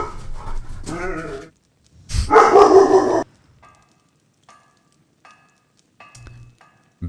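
A dog in the Baldur's Gate video game barks and pants in short loud bursts, followed by quieter faint clicks and small game sounds.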